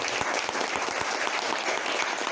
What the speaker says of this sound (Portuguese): Eu queria que você desse essa salva de palmas para Jesus.